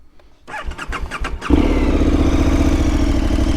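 A 2022 KTM 1290 Super Adventure S starter cranks in quick pulses for about a second, then the engine catches and settles into a loud, steady, throbbing idle close by.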